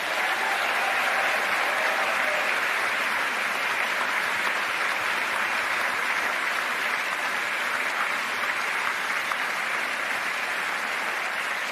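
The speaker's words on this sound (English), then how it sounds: "I would like to ask a big round of applause to them." Steady, sustained applause from a large audience at a college's 75th anniversary closing ceremony attended by King Felipe VI, honoring the students; dense even clapping throughout with no speech.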